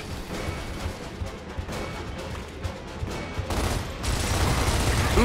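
Dense, sustained gunfire rattles through a Gears of War Ultimate Edition battle, continuous bursts of automatic fire and impacts blending into a loud wash that swells toward the end.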